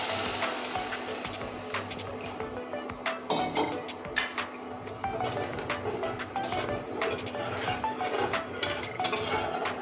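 Water goes into frying masala for a rohu fish curry with coconut paste, giving spattering sizzles and splashes mixed with clinks and scrapes of a pot and utensils, close and irregular.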